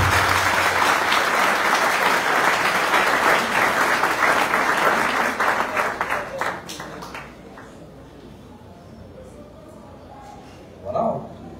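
Sustained, warm applause from an audience welcoming a singer at a launch event, thick and steady for several seconds before thinning out to scattered claps, followed by a quiet room and a brief voice.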